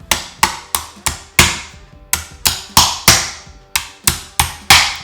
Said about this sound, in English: take a non-marring hammer,